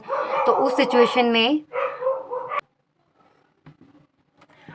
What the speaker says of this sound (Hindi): कुत्ते भौंक रहे थे बाहर।